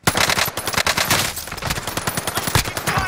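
Rapid automatic gunfire in a multiplayer shooter game, dense bursts of machine-gun shots rattling continuously and loudly, close and overlapping, with scattered heavier shot impacts throughout.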